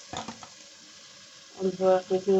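Spice paste fries in a pan for a fish curry, a soft sizzle with a few quick stirring scrapes, then a louder burst of clattering sizzle near the end, close by, no talk.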